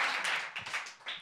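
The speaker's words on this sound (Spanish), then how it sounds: "Un aplauso a nuestro amigo que va a molar mucho." Studio audience applause on a Spanish comedy talk show, a short burst of clapping that fades somewhat over about a second, moderately distant with no voices over it.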